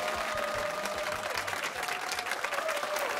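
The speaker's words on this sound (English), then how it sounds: "Nice round of applause." Audience applause at a high school quiz show between Hingham and Wellesley, a steady dense clapping that fills the moment without a break, with faint voices mixed underneath.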